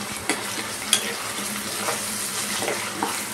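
Basa fish fries in a pan over high flame, sizzling steadily with scraping and pressing from a spatula and a few sharp clicks, close and moderately loud with no talking.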